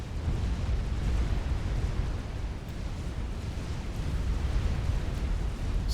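A dense, continuous rumble of explosions and heavy turret fire in the strategy video game Supreme Commander rolls on steadily at moderate volume, with no speech over it.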